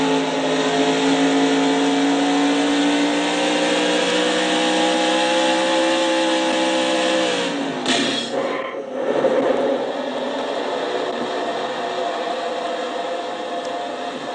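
Onboard race car engine from a Castrol GTX Cup Series racing video game at the Crown Royal 400, a loud steady high-revving drone with a rising pitch that dips abruptly midway, as if lifting off the throttle, then resumes.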